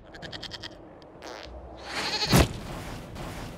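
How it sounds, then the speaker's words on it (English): A goat bleats inside the fantasy role-playing game Dragon Age Inquisition, a short loud cry rising out of background game ambience with some softer sounds around it. "we discovered this man attacking the building with a goat"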